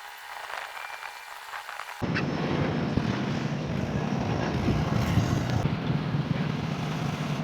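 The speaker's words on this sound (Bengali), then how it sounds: "কাঠপট্টি লঞ্চ ঘাট থেকে এই ট্রলারটি আসছে" A river trawler draws near, heard from aboard the Zakir Samrat 3 passenger launch near Muktarpur Bridge before dawn: a steady, broad engine-and-water roar that jumps sharply louder after two seconds and then holds, with no talking.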